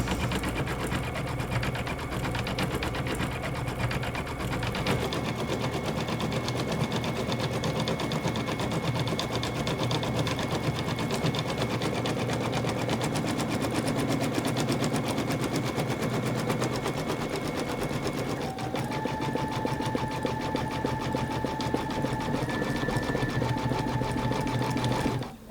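A Brother Innov-is XV sewing machine stitches an embroidery design on a needle case, a loud, continuous rapid mechanical chatter and whir held without a break, its pitch shifting slightly partway through.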